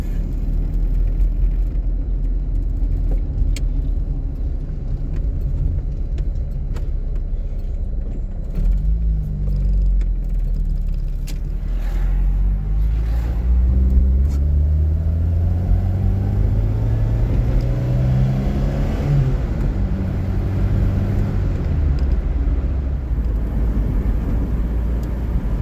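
An old Austin Princess saloon, back on the road after ten years off, drives steadily with a low engine rumble and a rising and falling drone as it changes speed, heard from inside the car with no talk.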